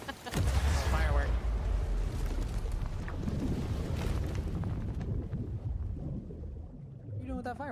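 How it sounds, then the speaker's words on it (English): Firework fired from a ship's cannon in the pirate game Sea of Thieves: a heavy booming launch followed by rushing, crackling noise and rumble, with people talking over it. "What are you doing with that firework, Stefan?"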